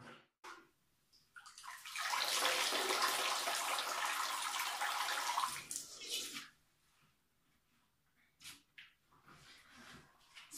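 Running water rushes loudly for several seconds while wool yarn is rinsed to clear out soap and lanolin, then cuts off, leaving quiet handling noises and a few faint drips and splashes.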